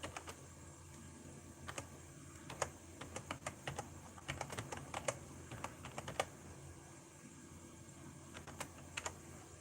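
Computer keyboard keys clatter in irregular bursts of quick taps as a password is typed, quiet and close with steady room hum underneath.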